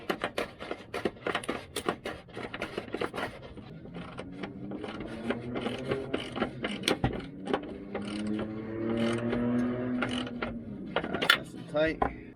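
A screw on the antenna bracket of a Toyota Tacoma is tightened by hand, heard as close, repeated ratcheting clicks and metallic scraping, with a few rising squeaks midway.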